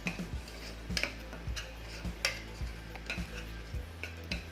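Onion, tomato and green chillies sauté in an oily pan for a chickpea masala, with a low sizzle under repeated sharp ticks and scrapes of a spoon stirring at a steady, uneven rhythm close by.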